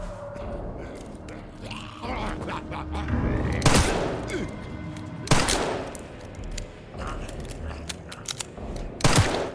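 Gunshots from Leon's and Grace's weapons in the survival horror game Resident Evil Requiem ring out as sharp, loud single reports spaced a few seconds apart, over tense ambient game sounds and faint reverberant echoes.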